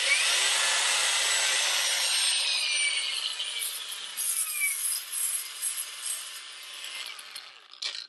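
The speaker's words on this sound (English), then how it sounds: "So now I can grind on that edge." A VERVEWAVE WT8841 cordless band file sander grinds along an edge with a loud, steady abrasive rasp that gradually eases into a rougher, uneven scraping toward the end, close up and alone.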